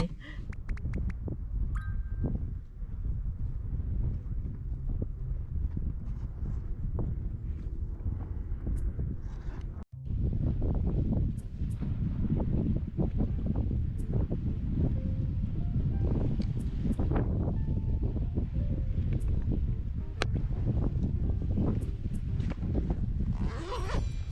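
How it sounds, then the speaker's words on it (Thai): Strong, cold wind at the seaside blusters hard into the microphone as a continuous loud roar, with a short dropout partway through and someone speaking over it. "มาถึงริมทะเลแล้ว โคตรเย็นอะลมแรง"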